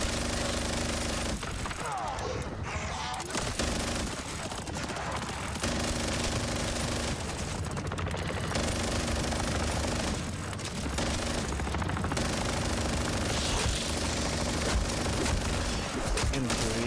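Dense, continuous automatic gunfire and explosions in the Call of Duty MWZ video game, loud and relentless for the whole stretch with brief dips in intensity.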